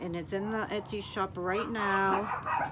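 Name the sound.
dogs barking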